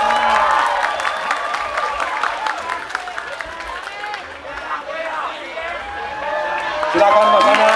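An audience at a stage event applauds and cheers for Mas Anang, with dense, continuous clapping and crowd noise lifting again near the end as an announcer speaks over it.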